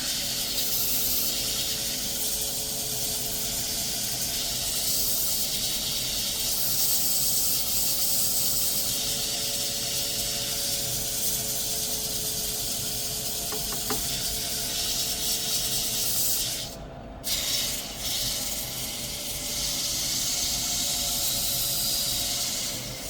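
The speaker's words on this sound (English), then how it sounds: "Now we're going to sand this up" A black walnut salt shaker spins on a wood lathe while abrasive paper is held to it, making a continuous close hiss and rub that briefly dips and returns near the end.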